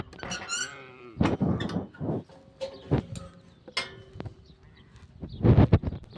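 A goat bleats several times at a farm where goats are kept, with loud, close, wavering cries and shorter squeaky bleats mixed with a few knocks and clangs.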